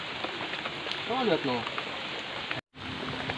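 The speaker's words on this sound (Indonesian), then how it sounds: "Hujanan nih, hujan gede banget." Heavy rain hisses in a dense, steady wash close by on a surface outdoors, with a brief spoken voice over it and a short dropout near the end.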